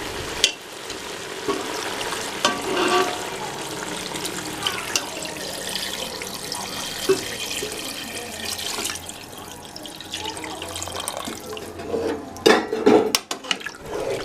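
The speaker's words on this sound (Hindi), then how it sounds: "कुकर में अब हम पंजों के बराबर पानी डालेंगे।" Water is poured into a pressure cooker holding chicken feet just fried in spices, a steady splashing pour with light clinks of the pot, moderately close.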